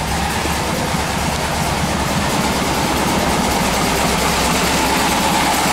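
An air-cooled Volkswagen engine runs loud and steady close up, a dense continuous mechanical rumble with no break, while it is revved up from idle.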